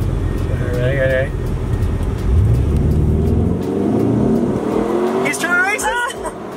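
A Mitsubishi Evo X with a straight-pipe exhaust accelerates hard in a street race, its loud engine climbing through revs with a rising whine. Excited voices are heard close by.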